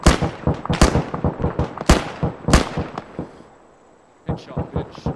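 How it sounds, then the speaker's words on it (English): Heavy thumping shots from Arma 3 combat, a series of sharp booming reports spaced irregularly with ringing tails, a brief quiet gap, then more blasts, with a player's voice talking faintly in between. "And the mortar."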